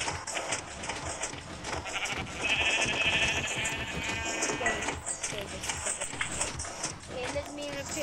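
Sheep bleating inside a Minecraft redstone sheep-breaker contraption, the blocky game bleats sounding amid busy, dense game noise with clattering effects throughout.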